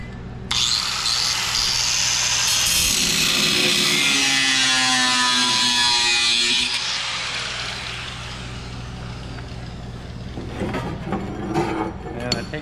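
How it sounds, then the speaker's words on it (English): An angle grinder scoring the sheet metal floor pan of a 1941 Chevy, a loud, continuous high whine with a wavering pitch as the disc bites, then easing off into softer scraping and handling noise. "Now I'm gonna take a grinder, I'm gonna just score the metal across there"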